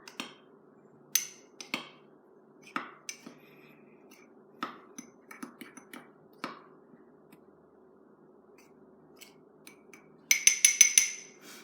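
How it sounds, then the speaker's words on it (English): A spoon stirs dry cake ingredients in a mug, giving scattered light clinks and taps against the ceramic, followed by a quick burst of brighter rapid clinking near the end, no talk. "So I'm going to go ahead and I am going to stir that up."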